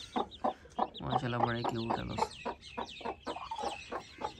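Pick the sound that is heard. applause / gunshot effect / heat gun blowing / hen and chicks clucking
hen and chicks clucking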